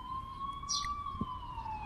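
An ambulance siren in a horror video game wails as a steady, slowly drifting tone, moderately loud over a dull background rumble.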